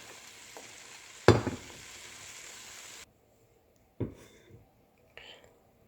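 Onions and garlic fry in hot oil with a steady hiss and a loud clunk as they go into the pan, then the hiss drops away, leaving a few light knocks.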